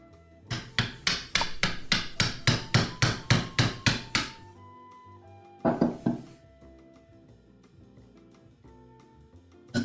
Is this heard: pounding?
yes